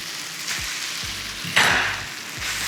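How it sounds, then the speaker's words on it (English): Noodles fry in hot oil with a steady loud sizzle, while soft knocks and stirring sounds come and go and a burst of hissing rises midway. "so our noodles are frying off nicely inside that"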